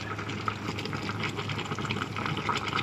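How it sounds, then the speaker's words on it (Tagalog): A steady bubbling, churning rush of chicken boiling in a rice cooker, close and continuous, with no talking. "Kumukulo na nga ang chicken manok sa rice cooker."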